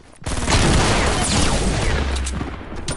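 Sustained video game gunfire, a dense, loud burst of rapid automatic shots that rolls on continuously for a few seconds with no pauses and no talking.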